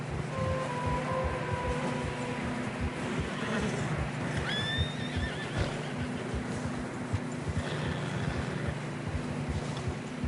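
Video game horses struggling through fresh snow whinny with a sharp, high neigh midway, over a steady rumbling bed of movement and faint clopping; no speech.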